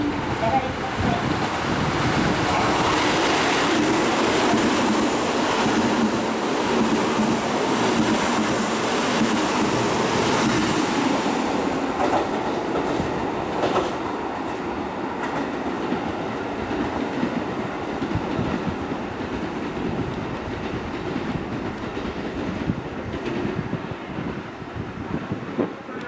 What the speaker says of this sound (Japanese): まもなく2番線に列車が参ります。